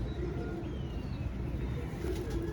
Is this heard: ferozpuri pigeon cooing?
yes